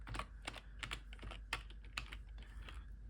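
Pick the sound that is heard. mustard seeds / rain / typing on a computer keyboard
typing on a computer keyboard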